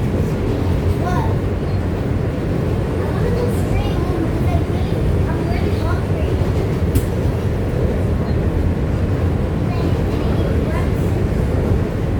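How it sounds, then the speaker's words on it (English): Interior of an R160 J subway train in New York running along the track: a steady, loud, broadband rumble and rattle of wheels and car body, continuous throughout with faint squeals. "So I'm currently on a J train that is terminating at Hewes Street."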